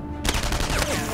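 Enemy gunfire in the World War II shooter game Enemy Front, a sudden loud burst of rapid shots that starts after a brief quiet moment and goes on as a dense, continuous rattle.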